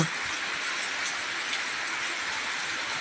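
Steady rain falling during a power outage, a dense even hiss that stays constant throughout with no voices.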